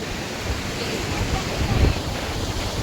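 Rough Arabian Sea waves at Ganpatipule on the Konkan coast roar and churn nonstop, with gusts of wind buffeting the microphone and a surge building near the end.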